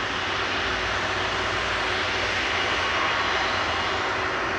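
Airbus A330-200 with Rolls-Royce Trent 700 engines departing Manchester Airport, a loud, sustained broadband engine roar that holds steady throughout with no voices.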